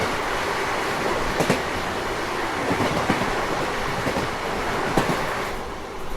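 The Rani Chennamma Express rushes past a station platform at speed. It makes a loud, continuous rumbling roar with rhythmic wheel clacks repeating throughout, and no voices are heard.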